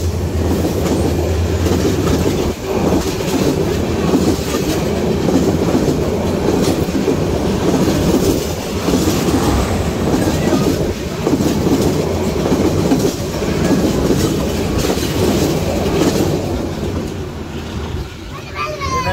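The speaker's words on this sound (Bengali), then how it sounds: "সামনে আসছে সম্ভবত লালমনি এক্সপ্রেস।" Lalmoni Express train passing through Mouchak railway station, a loud continuous rumble and rolling clatter of wagons close by for the whole stretch, with a voice talking briefly over it.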